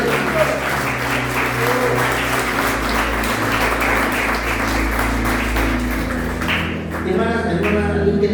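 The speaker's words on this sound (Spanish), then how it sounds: "Dale palmas arriba." Church congregation claps along through most of the stretch, a thick continuous patter over a low hum of instruments, thinning near the end.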